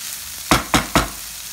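Boiled corn stirred in a pan with three quick, close scraping strokes in a row, each a short, loud rasp against a quiet background.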